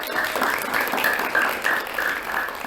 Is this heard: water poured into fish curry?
no